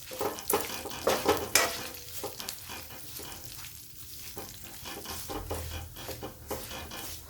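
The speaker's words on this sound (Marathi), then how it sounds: "आता याला पण परतून घेणार आहे" Coarsely crushed roasted peanuts being sautéed in a pan, sizzling steadily while a utensil stirs and scrapes them, close up with a few louder stirring bursts early on.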